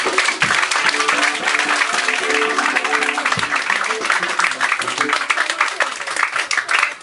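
Congregation at a church worship service loudly acclaiming the Lord, with sustained clapping, cheering and shouting voices filling the room continuously from start to finish.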